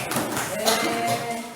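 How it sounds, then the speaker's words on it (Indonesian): Applause from a group of students at a school physical education lesson, a short burst of steady clapping mixed with voices talking. "tepuk tangan untuk satu"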